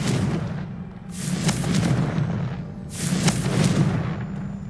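Repeated fiery spell blasts in a Hogwarts Legacy battle, two big booming bursts with rumbling tails over a constant loud low roar, heard close and dense.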